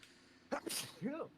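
A single short sneeze, fairly close and abrupt, followed by a brief voiced sound at its tail, heard alone in a quiet room with no other activity.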